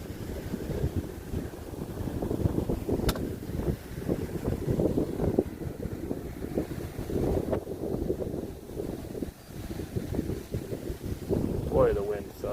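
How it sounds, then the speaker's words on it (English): Strong wind buffets a microphone outdoors in Cape Coral, Florida, a steady rumbling roar that lasts throughout, with faint background sounds under it. "Boy, the wind sucks."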